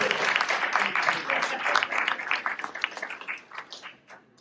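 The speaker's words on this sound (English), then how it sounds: "Give her a round of applause." Audience applause at a community clean energy event in Oak Park, a steady crackle of many hands clapping nearby that thins and fades toward the end.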